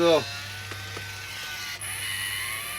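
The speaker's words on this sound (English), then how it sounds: "I'm going to get my trusty little can opener out" A small clip-on can opener cranks around a can of tomato paste, producing close, dry ratcheting clicks and a grinding mechanical whir over quiet room noise.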